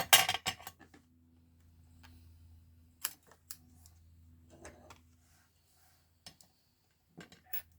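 Scissors snip through paper while a handmade card is assembled: a few crisp, close cuts near the start, then scattered light clicks and taps against a quiet room hum.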